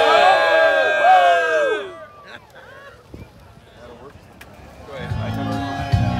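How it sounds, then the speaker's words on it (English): Festival crowd at an alligator-themed street celebration, a loud burst of cheering and whooping voices at the start that drops away, then a rising wash of crowd noise and music toward the end. "Check out the crowd, dude."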